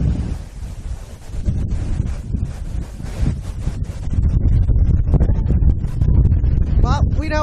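Wind blows hard across an outdoor football stadium in Melbourne during a women's Victorian Premier League match, a steady low rumble of microphone buffeting under a commentator's voice.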